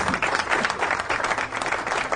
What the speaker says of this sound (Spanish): Los aplausos de todos lados ahí.